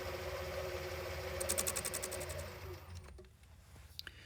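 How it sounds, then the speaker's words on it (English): A lathe machines the front face of a Clupet-style piston ring, giving a steady mechanical whir and hum with a brief run of rapid clicking ticks before the cut winds down and quietens. "So now we're going to machine the front side, side 2."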